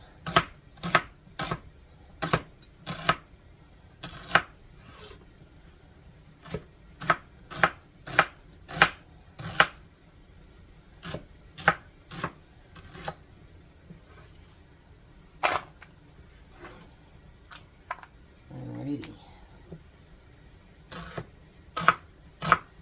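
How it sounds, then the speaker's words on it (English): Vegetables diced with a knife on a cutting board for Louisiana jambalaya, sharp close chops landing in quick irregular bursts with short pauses between them, and no voices. "We're going to get that diced up."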